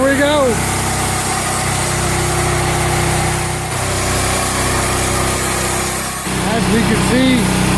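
A Hud-son Patriot sawmill's engine runs steadily and loudly throughout as a log is cut into boards, with someone narrating over the constant mechanical drone.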